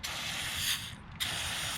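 Brake cleaner sprayed from an aerosol can onto a Sportsman clutch, a steady close hiss lasting about a second with a brief gap before a second burst.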